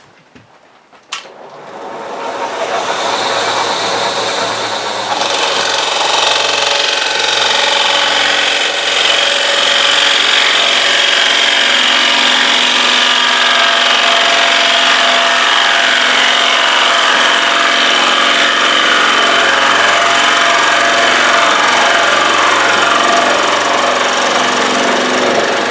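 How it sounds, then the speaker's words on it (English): A woodturning tool cuts into a wooden platter spinning on the lathe, a loud, continuous rough scraping and whirring that starts after a brief knock and holds steady to the end. "make this a little bit deeper, so I can have one clean cut all the way across."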